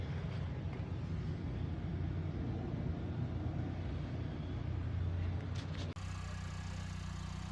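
Ford Bronco Outer Banks fitted with premium Bro-Flaps rolling down the road, a steady broadband road and tire rumble with wind noise, heard from on board, with a brief dropout near the end.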